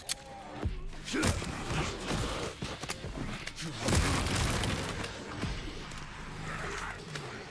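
Grenade blasts in Resident Evil Requiem, several dull booms and thuds over a few seconds amid game noise, with a voice talking intermittently.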